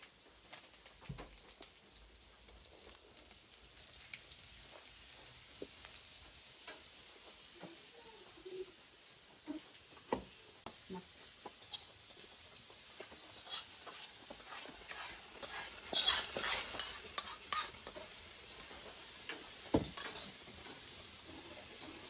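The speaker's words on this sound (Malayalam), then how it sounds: "പിന്നെ കറിവേപ്പില ഇട്ട് കൊടുക്കുന്നുണ്ട് കേട്ടോ" Curry leaves and dried red chilies crackle in hot oil after mustard seeds for a puli inji tempering, a faint continuous sizzle dotted with sharp pops and spatters, briefly louder partway through.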